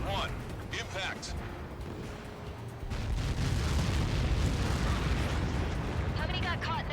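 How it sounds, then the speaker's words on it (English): Explosion impact in the combat flight game Ace Combat 7, a heavy roaring rumble swelling after a few seconds and lasting to the end, under radio-style voices. "How many got caught in that explosion?"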